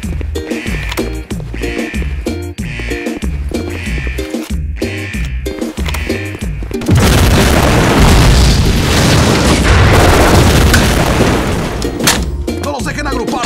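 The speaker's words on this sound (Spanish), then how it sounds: "10 segundos hasta la explosión." A planted bomb in the online shooter Operation 7 goes off as a heavy, roaring blast, loud and sustained after a stretch of rhythmic pulsing game sounds, with players talking over it.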